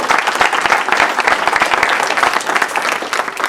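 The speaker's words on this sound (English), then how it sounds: "Let's give them a round of applause." Dense, steady applause from an audience at a Project Teddy Bear presentation, many hands clapping together at close range for several seconds without a break.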